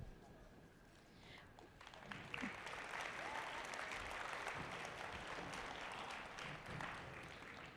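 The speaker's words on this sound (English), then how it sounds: "applause is for our generous sponsors" An audience applauds at a FIRST Tech Challenge robotics qualifier event, with dense, sustained clapping that swells after the first couple of seconds and holds steady, filling the hall.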